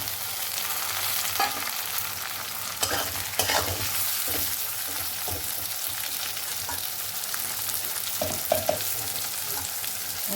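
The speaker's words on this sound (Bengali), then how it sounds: "এবার আমি এর মধ্যে টমেটো দিয়ে দেবো।" Tomato tipped into onions frying in a pan for Bengali crab masala, giving a steady, close sizzle with stirring scrapes and a few sharp clatters throughout, with no voices.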